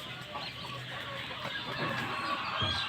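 Parent Fayoumi chickens clucking on a poultry farm, a soft, scattered run of clucks mixed into busy farmyard background noise and heard from some distance.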